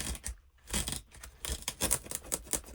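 A craft knife slices paper away from a book's text block near the spine, producing several short scraping cuts and rasps in quick irregular succession, close and fairly quiet with no talking.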